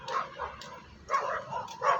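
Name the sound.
dog barking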